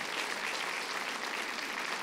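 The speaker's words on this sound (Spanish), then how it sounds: "¿por qué no le damos un aplauso a Lucas?" Applause from a church congregation for a four-month-old baby, a dense, even wash of clapping throughout, with no talk.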